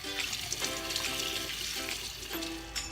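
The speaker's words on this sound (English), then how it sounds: "let's start by rinsing off the ribs of any unpleasantries" Baby back ribs are rinsed under a running kitchen tap, giving a steady, soft hiss of flowing water beneath background music, with no talking.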